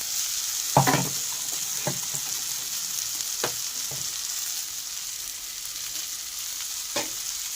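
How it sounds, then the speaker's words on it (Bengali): Washed moong dal sautéed in fried spices for a fish-head dal, a steady close sizzle broken by a few sharp stirring scrapes of the spatula against the pan, with no talking. "ডালগুলো এবার সেই মশলাগুলোর মধ্যে ভালো করে কষিয়ে নেব"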